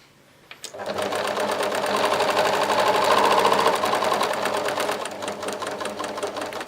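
A sewing machine runs a short back stitch on fabric for a scrunchie, its needle whirring in a fast, steady rhythm that starts abruptly after a quiet moment and runs loud and close.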